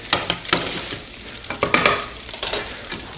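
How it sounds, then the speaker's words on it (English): Bacon frying in a pan with a steady close sizzle and crackle, broken by repeated scraping and stirring strokes; no voices. "so our bacon's starting to get nice and crispy here"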